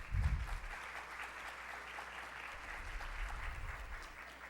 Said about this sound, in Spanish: Démosle un fuerte aplauso, por favor.